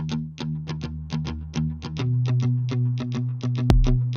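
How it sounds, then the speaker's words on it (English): Palm-muted electric guitar chugs out a steady run of short, tight plucked notes with a low rumbling body, close and upfront, ending on a sharper accent. "And I did that with this palm muted guitar."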